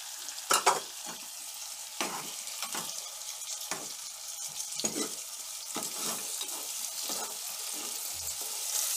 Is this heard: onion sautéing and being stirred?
yes